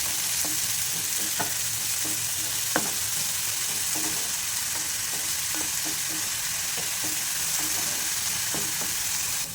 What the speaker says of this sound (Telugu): పెసరపప్పును బాగా కలుపుకుంటూ ఆయిల్లో ఫ్రై చేయాలండి